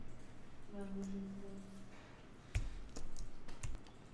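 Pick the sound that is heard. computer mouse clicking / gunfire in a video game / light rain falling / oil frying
computer mouse clicking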